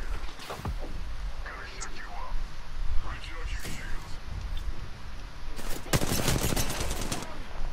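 Bursts of gunfire in the video game Apex Legends, a few scattered shots early on and a dense rapid volley near the end, mixed in with players talking over voice chat.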